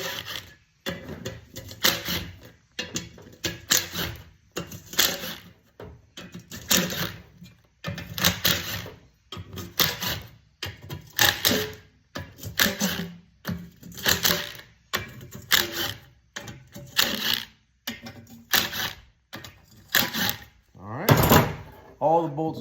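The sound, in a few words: loosening engine bolts on a 5.9 Magnum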